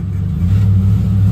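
A truck engine revving with a low, growling rise in pitch, loud and close, sustained for about a second without voices.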